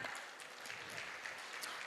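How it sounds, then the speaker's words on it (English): Audience applause at a pharma conference in a hall, a steady dense wash of clapping that holds evenly through the whole short stretch without voices. "I request everyone to give a big round of applause to ma'am."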